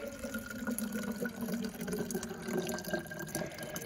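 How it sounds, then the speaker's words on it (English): Water runs steadily from a refill station tap on a Queensland roadtrip stop, a soft continuous splashing flow heard alone at low level. "So there's a water refill station if you ran out of water and you need extra water."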